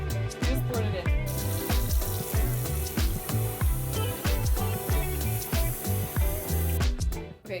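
Hot water splashes and gurgles into a small container of TSP cleaning solution mixed for whitewashing a brick fireplace, a near, continuous pouring sound with bubbly rhythmic pulses that stops abruptly near the end.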